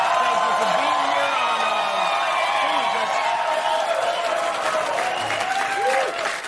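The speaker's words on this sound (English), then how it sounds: "Yeah, no, you clap too loud" Studio audience at a late-night political comedy show clapping and cheering steadily throughout, with whoops and shouted voices rising above the dense, loud applause.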